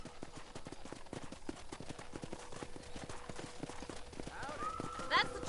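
Horse hooves clip-clop in a steady, even rhythm at a corral in a Western video game, with a faint whinny and a brief bright chime near the end, all under ongoing talk.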